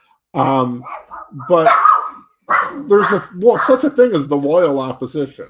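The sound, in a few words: dogs barking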